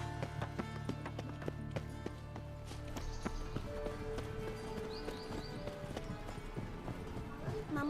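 Horse hooves clip-clop in a steady galloping rhythm in The Witcher video game, close and continuous under game music and occasional talk.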